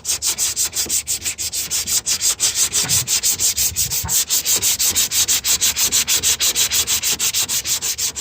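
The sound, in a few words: sanding truck fender with 80 grit sandpaper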